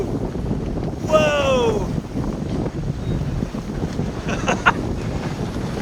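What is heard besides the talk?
big waves and wind hitting a Catalina 28 sailboat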